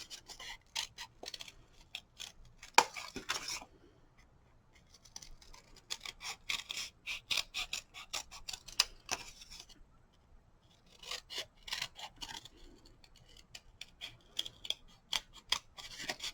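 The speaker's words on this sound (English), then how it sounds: "take my scissors, I'm going to cut it" Scissors snip through paper in quick bursts of crisp cuts, pausing briefly between runs, close and moderately quiet with no talking.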